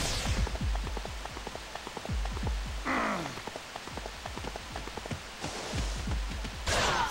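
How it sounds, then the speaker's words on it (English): Steady rain hisses through a battle scene in the video game Dynasty Warriors 4 XL, with scattered thumps and clashes over a constant downpour. "Did it just start raining, or was it always raining?"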